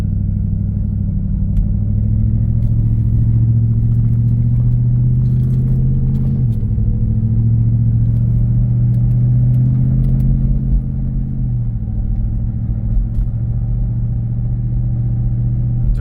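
A Ford with a four-valve Cobra Mach 1 engine and automatic transmission pulls away from a green light in cold weather, its loud steady engine rumble rising in pitch and stepping down twice as the gears shift.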